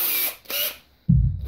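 A power drill whirs twice in short bursts while spinning a taped threaded bolt being made into bullet headphones, followed by a lower, rougher mechanical grinding near the mic.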